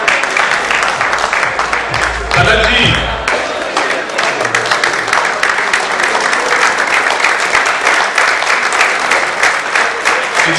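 Audience applause at a gala night awards felicitation, steady and loud for the whole stretch, with a brief spoken name heard over the clapping near the start.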